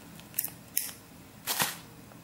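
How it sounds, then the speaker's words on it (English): Jewelry cutters snip off excess headpin wire next to a bead loop: two sharp, close metallic clicks in quick succession, then a softer third cut, with no talking. "you can snip this extras off"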